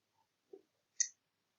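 Mouse clicks in the AWS console billing menu: a few faint, short isolated clicks in near silence, the last one the clearest.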